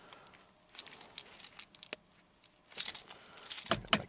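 Car keys jangle and clink in bursts while someone fumbles to unlock a car on a winter storm morning, close and crisp, with short pauses between the rattles.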